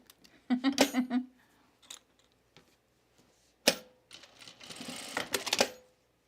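A sewing machine stitching a dress in brief whirring bursts separated by quiet pauses, with small clicks and handling noises in between.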